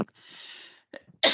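Short bursts from a person with a nagging cough: a brief onset, a quiet gap, then a loud, harsh explosive burst at the end, close up and alone with no talk.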